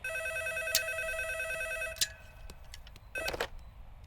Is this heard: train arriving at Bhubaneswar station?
no